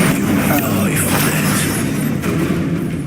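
A Bombarda spell explosion in Hogwarts Legacy: a dense, loud, booming rumble that fills the whole moment without a break.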